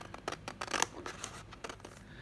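Scissors snip through patterned craft paper with a quick run of short crisp cuts, close and fairly quiet, with no voices.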